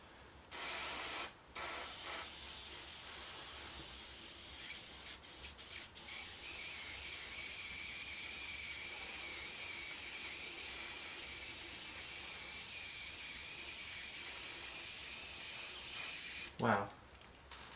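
Airbrush spraying paint onto a 1/32 Eduard Messerschmitt Bf 109E-3 scale model, a steady close hiss lasting almost the whole stretch with brief interruptions near the start and a short cutoff near the end.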